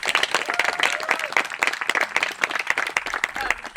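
An audience at a groundbreaking ceremony for the Rio Dell, California water system rebuild breaks into steady, sustained applause, many hands clapping together close by.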